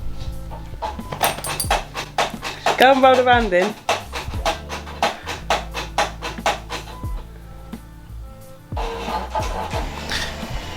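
A dog pants rapidly and rhythmically up close in a bedroom while rolling around, with a brief burst of excited snuffling midway and a person speaking briefly.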